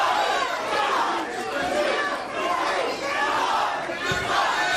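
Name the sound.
wrestling crowd counting along with elbow strikes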